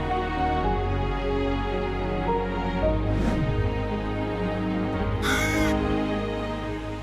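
A raven lets out a brief, harsh caw partway through, standing out over a steady tonal background.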